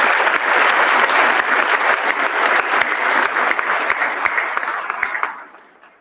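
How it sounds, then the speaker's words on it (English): Sustained applause from a large audience at a cadet corps commencement ceremony for the class of 2021, dense and steady clapping throughout before fading out near the end. "Please join me in applauding their dedication and enthusiastic service"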